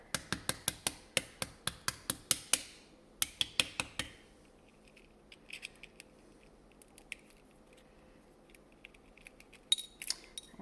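Boiled eggs being rapped against a hard surface to crack the shells, a quick run of sharp close taps for about four seconds, followed by faint scattered clicks and crackles of shell.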